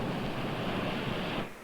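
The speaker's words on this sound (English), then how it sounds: "the same waves that crash into the headlands" Ocean waves crash into rocky headlands in a dense, roaring surge of surf that cuts off abruptly near the end, with no voices present.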